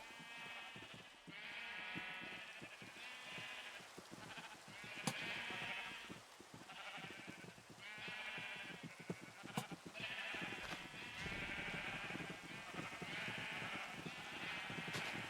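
Sheep in the video game Minecraft bleat repeatedly in overlapping, wavering calls at an even pace, fairly close and clear, with no talking.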